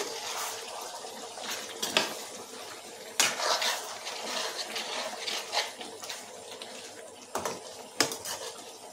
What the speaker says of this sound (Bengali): এটাকে ভালোভাবে আবার কিছুক্ষণ নাড়িয়ে নেব